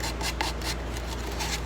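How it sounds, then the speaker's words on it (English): Sandpaper rubbing and rasping against the wooden inside edge of a cigar box guitar's sound hole, a steady close scratchy scrubbing in repeated strokes with no talking. "get in there with the sandpaper"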